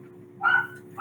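A dog gives a single short yappy bark or whimpering yip in a quiet room, close and brief, with no talking.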